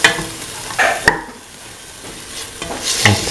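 Mint, onion and shallots being sautéed and stirred in a pan for a coconut milk stew, with a few scraping stir strokes over a soft, steady sizzle at close range.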